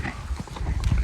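Horse hooves clip-clopping, a few quick, close hoofbeats in a short uneven burst.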